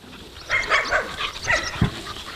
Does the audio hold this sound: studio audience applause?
no